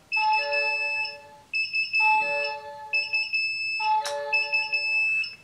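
Low-temperature alarm on an Inkbird Smart terrarium thermostat: four repeated bursts of close electronic beeping in a steady rhythm, each about a second long with short gaps, and a brief click near the end.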